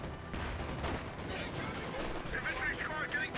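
Gunfire from a Churchill tank and infantry engaging Panzer Grenadiers in Company of Heroes 2, a short stretch of crackling shots and bursts with a commentator's voice over the top.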